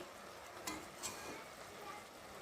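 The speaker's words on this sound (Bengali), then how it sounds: "দিয়ে নাড়াচাড়া করব টমেটোটাও সেদ্ধ হয়ে যাবে ওর সাথে" Cabbage and tomato with prawns sizzle quietly in a pan as a spatula stirs them, with a couple of light scrapes against the metal, close and faint.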